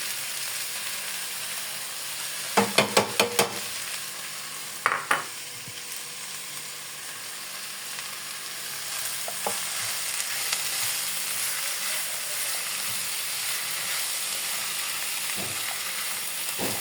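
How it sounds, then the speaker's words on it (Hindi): Tomatoes and two green chilies hit a pan of browned onions and sizzle in a steady, close frying hiss, with a few sharp clatters from a stirring spoon early on. "अब इस मौके पे मैं इसमें टमाटर डाल दूंगी। ये टमाटर हैं और 2 हरी मिर्चें।"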